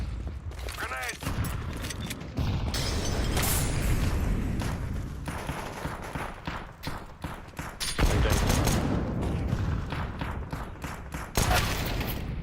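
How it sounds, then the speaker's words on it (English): A grenade explodes amid repeated gunfire in the Counter-Strike 2 video game, loud booms and shots rattling on and off for several seconds while a voice talks over the game. "Throwing a grenade."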